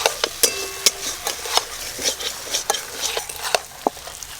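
Fried shrimp go into a pan of jackfruit and potatoes, with repeated sharp scrapes and clanks of a metal spatula stirring against the pan over a light sizzle, close and irregular.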